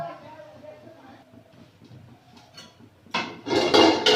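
A lid taken off a frying pan during cooking, a clattering metallic clank and scrape near the end, following a stretch of someone talking quietly.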